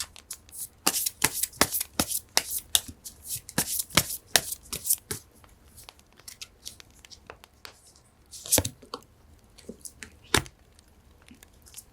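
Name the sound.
shuffling tarot cards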